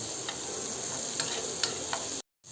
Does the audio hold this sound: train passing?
no